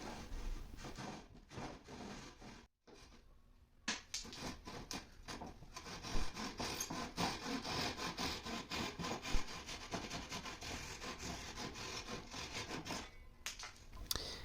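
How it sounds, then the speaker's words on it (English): A hand saw cuts through plywood with steady back-and-forth rasping strokes, close and continuous after a brief pause near the start. "take a saw and very carefully follow my line"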